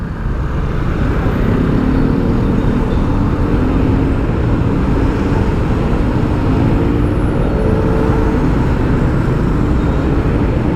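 Heavy rush-hour road traffic at Quezon City Circle on Commonwealth makes a dense, continuous roar of cars, buses and motorcycles, loud and unbroken throughout with no talk.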